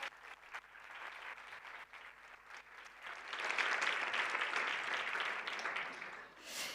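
An audience at a science event applauds two women guests as they come up to join the host, the clapping moderate at first and then swelling into a fuller, fairly distant wash.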